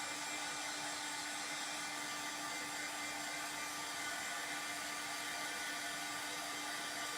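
An old hair blow dryer runs steadily and close up, giving a continuous loud whirring hiss with a constant motor whine and no talking over it.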